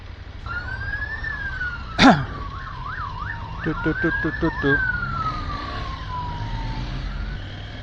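Police motorcycle sirens wail and yelp as the bikes pass nearby on the road, with a sharp clunk early on and steady traffic rumble underneath.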